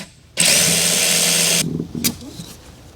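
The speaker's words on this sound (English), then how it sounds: "Then grab a 10 mil and take this nut off." Power tool, likely an impact driver or drill with a 10 mm socket, removing a nut on a Karcher Windsor Chariot 2 iScrub floor scrubber, giving one loud, steady whine of just over a second followed by brief rattling and clicks.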